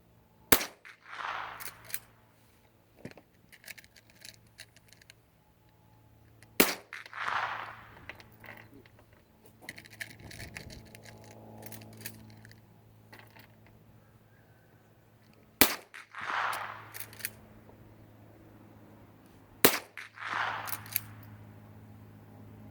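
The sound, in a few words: 22 Magnum shots dinging a yellow air cylinder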